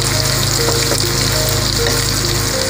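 Sliced onions fry in oil with a loud, dense, unbroken sizzle heard up close, a steady crackling hiss with faint stirring and no voices.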